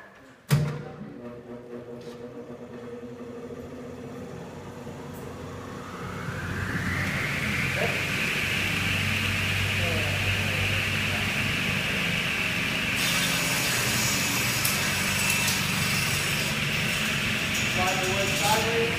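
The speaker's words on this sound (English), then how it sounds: "So let the blade come up to speed first, and then nice and slow and smooth push the wood through." Table saw cross-cutting wood: a clunk, then the motor spins up to a steady high whine with rumbling underneath, and the blade bites into the board with a louder, brighter roar near the end, while someone talks.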